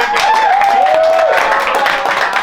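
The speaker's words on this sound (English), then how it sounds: "Let's give a round of applause, ladies and gentlemen." A game-show studio audience gives a round of applause, a brief burst of dense clapping and cheering heard close, with a voice speaking over it.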